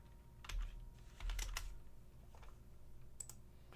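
Computer keyboard typing, quiet clusters of sharp key clicks in short irregular bursts with brief pauses between, close by and with no talking.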